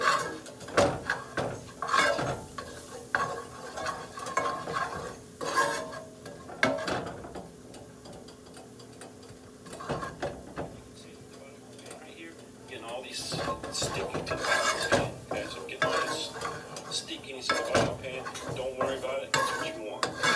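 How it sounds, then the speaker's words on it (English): Flour is stirred into a garlic tomato bisque base in a pan, with repeated scraping and clinking of a utensil against the metal pot, irregular and close, while someone talks at times. "He said stir constantly."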